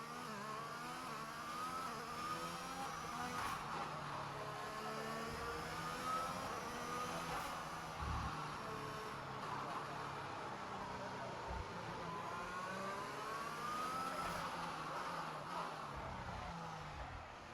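F1 race car engines in the F1 2021 video game roaring and shifting pitch as cars pass through the Monaco tunnel, a continuous loud wail with rising and falling sweeps and a voice talking over it.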